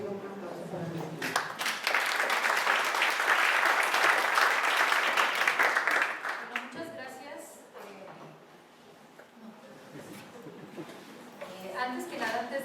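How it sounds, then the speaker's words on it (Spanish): Audience applause for a speaker at an academic panel, a strong burst of clapping lasting about six seconds before fading into quieter speech from the room. "les pido un aplauso para ella"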